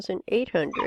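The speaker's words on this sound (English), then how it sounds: "You can hear my puppy in the background." A puppy gives a few short yips and whimpering barks close by, while a person talks over them.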